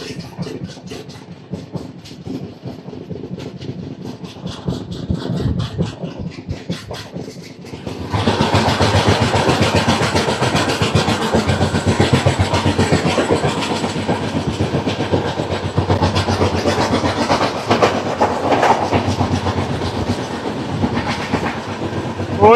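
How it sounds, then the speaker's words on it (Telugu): The Janmabhoomi Superfast Express on the Visakhapatnam to Lingampalli route clatters steadily at cruising speed, the rolling rumble growing noticeably louder partway through and staying dense and continuous. "ట్రైన్ అయితే ఇదే క్రూజింగ్ స్పీడ్లో వెళ్తుంది చాలా సేపటి నుంచి."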